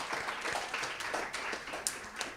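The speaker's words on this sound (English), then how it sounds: "Give them a round of applause." Applause for a school quiz team at an annual school quiz, a brief burst of scattered hand clapping from a modest audience, fairly close, with no talk over it.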